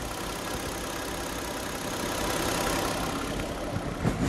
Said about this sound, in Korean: 엔진 소리 한번 들려드리도록 하겠습니다.